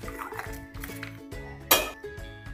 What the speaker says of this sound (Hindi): अभी घी को फ्लफी और क्रीमी बनाना है तो इसमें बर्फ के कुछ टुकड़े